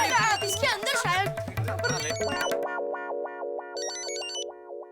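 A mobile phone ringtone plays a repeating electronic melody, loud and nearby, rising into a brighter high pattern, after opening bursts of overlapping talk and music in a housing society flat.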